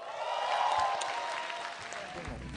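A stand-up comedy audience at an Indonesian show applauds as the next comic takes the stage, a steady wash of clapping and crowd noise lasting the whole short moment.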